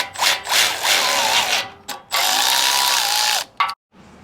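A socket ratchet clicks in several quick bursts while tightening hex bolts on a Jeep Gladiator Rubicon rear bumper, with one longer run of ratcheting and short pauses between strokes.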